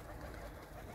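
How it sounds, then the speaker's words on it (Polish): Pigeons cooing during a flock flight, a brief, faint, low murmur of coos with no voices. "Gołębie obniżyły pułap."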